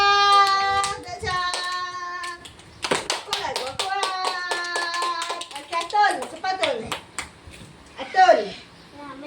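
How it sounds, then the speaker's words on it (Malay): Children clap their hands in a classroom lesson, a run of sharp irregular claps mixed with singing and chattering young voices throughout. "tepuk tangan lah"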